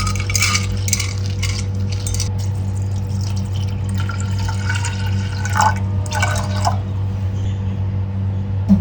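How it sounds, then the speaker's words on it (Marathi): Toor dal and white urad dal being rinsed in water, with faint drips, splashes and trickles over a steady low background hum and no talk. "हे दोन्ही स्वच्छ धुवून आपण कुकरला लावू"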